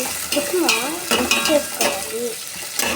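Onions stirred in a hot pan for vegetable pulao give a close, continuous sizzle with repeated scraping and clinking strokes of the spoon throughout.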